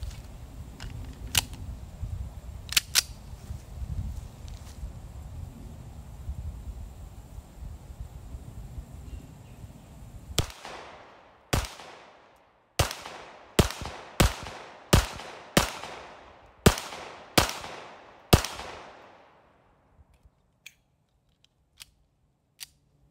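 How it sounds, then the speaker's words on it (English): Rock Island Armory Ultra FS 1911 pistol in 9mm fired at steel targets about 10 to 15 yards away: a few scattered shots, then a steady string of about eight sharp, loud reports with ringing decay, ending in faint clicks. "shoot at the steel here about 10-15 yards or so, and I got 4 magazines, so let's go and take the shots here."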